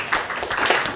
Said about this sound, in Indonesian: Oke, kita beri aplaus kembali ke untuk kelompok 5.